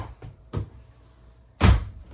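A bathroom door swings shut with a solid thunk, preceded by a couple of softer knocks and rattles, close by in a quiet indoor space.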